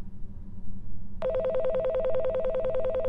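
After a brief low rumble, a telephone starts ringing with a rapid warbling electronic trill, steady and fairly loud.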